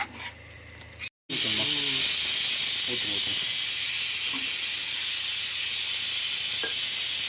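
A pot of Dindigul Thalappakatti-style mutton biryani is stirred over high heat, giving a loud, steady sizzling hiss of steam that carries on throughout. Brief voices come in early under the cooking noise.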